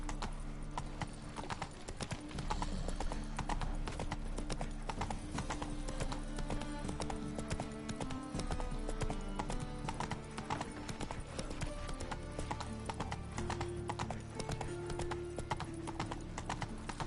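Roach, a horse in The Witcher 3 video game, gallops with a fast, continuous run of close hoofbeats over a background music bed, loud and even throughout with no talking.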